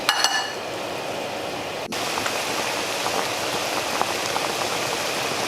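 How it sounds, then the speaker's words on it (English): Pho broth with oxtail and brisket bubbling at a steady boil, a dense continuous crackle and hiss with scattered pops, close and fairly loud throughout. "it's boiling up really well"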